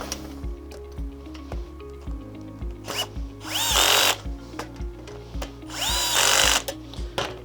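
A power drill or driver tightens the parts of a homemade landscaping rake. It comes in repeated short bursts between pauses, and two longer, louder whirring runs rise in pitch as the fasteners seat.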